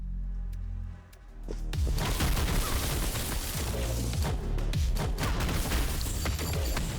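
A dense barrage of overlapping explosions, loud and continuous, with sharp bangs scattered through a rumbling soundscape in the video game Star Fire: Eternal Cycle.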